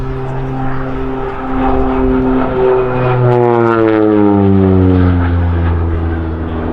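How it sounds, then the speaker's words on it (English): OV-10 Bronco twin-propeller aircraft flying at an air festival, a loud steady drone with propeller harmonics that sweep downward in pitch as it passes, Doppler-like, no talk. "Now the aircraft is flown beautifully by pilot Tony de Bruyn"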